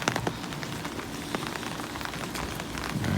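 Steady rain patters on surfaces all around a parked triple-axle 2017 Spartan 1245 toy hauler, with scattered sharper drop hits over a constant hiss.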